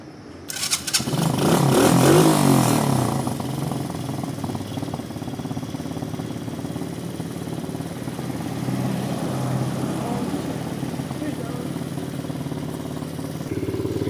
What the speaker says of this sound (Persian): الان بچه ها دارم استارت میزنم.